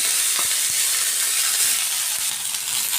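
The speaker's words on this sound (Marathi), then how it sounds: "आता ह्याच तेलामध्ये आपल्याला शिमला मिरची घालून घ्यायची आहे शिमला मिरची मस्त अशी आपल्याला इथं परतून घ्यायची" Capsicum stir-fried in hot oil in a pan, with a continuous bright hiss and sizzle and a few soft stirring knocks, close and without speech.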